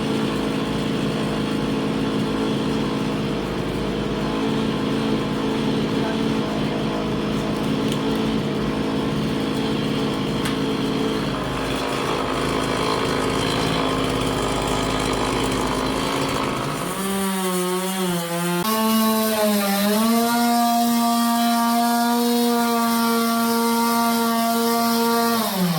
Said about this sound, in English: Got a chainsaw going.